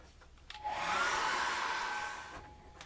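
A hair dryer runs to dry acrylic paint on a simple snowman painting, switching on after a quiet start and blowing steadily for about a second and a half before tapering off, close and fairly loud.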